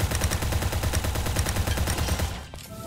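Rapid automatic gunfire rattles in the ev.io browser first-person shooter video game, a loud, dense, steady burst of shots that breaks off near the end.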